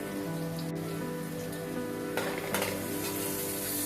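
Onion, garlic cloves and black cumin (kalonji) fry in hot oil, giving a steady, close, loud sizzle with crackling bursts and spatters, stronger in the last second and a half.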